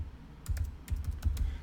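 Quick, light keystrokes on a computer keyboard, a short burst of about eight clicks in an uneven rhythm, close and moderately quiet, alone without speech.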